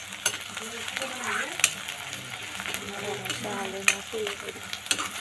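Onion and chillies crackling and sizzling in oil in a pan with occasional sharp pops and clinks of stirring, while a voice talks faintly underneath.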